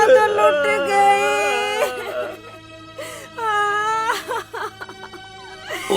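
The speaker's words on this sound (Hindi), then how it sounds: "रोने की आवाज आ रही है।" A woman wails and sobs in drawn-out, wavering cries that rise and break off in several bursts, close and fairly loud, with some sniffling sounds between.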